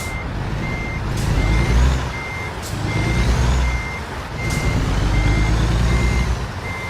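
A truck in American Truck Simulator reverses into a parking spot, its backup alarm beeping in a steady, regular series over a loud engine drone that swells and eases as the throttle rises and drops, with short bursts of air-brake hiss.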